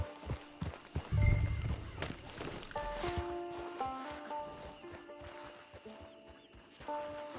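Horse hooves clip-clop in the Red Dead Redemption video game, a steady walking rhythm under a horse's whinny and game music, fairly faint with a brief heavier thud near the start.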